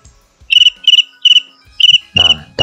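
Repeated bursts of shrill cricket chirping played from an app button, each a quick pulsed trill, sounding close and loud with short gaps between them, ending in a louder, buzzier burst.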